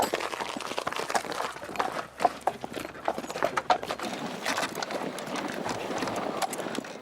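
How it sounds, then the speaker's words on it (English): A horse walks steadily on hard ground while powering a Victorian cider mill, its hooves clip-clopping in an uneven, close rhythm over a constant background of mechanical rumble and outdoor noise. "Now it's a case of getting the horse to do all the hard work."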